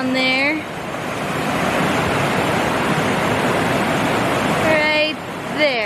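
A raging river rushes below an old footbridge on Mount Rainier, a loud, steady broadband roar of churning water close by, with someone speaking briefly over it at the start and end.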